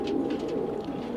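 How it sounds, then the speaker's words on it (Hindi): Pigeons coo softly inside a loft housing fancy coloured birds, a low, steady murmuring coo, close and continuous. "ये इनके सब लड़े हुए कबूतर हैं ज़्यादातर।"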